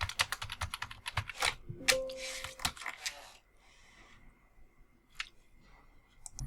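Typing a password on a computer keyboard, a rapid run of close, crisp key clicks in the first few seconds, then a quiet stretch broken by a single late keystroke.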